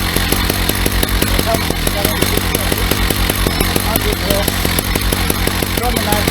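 A Husqvarna 380CD chainsaw mill bites into a log, its engine snarling loud and close with a steady, rapidly pulsing rhythm that holds throughout.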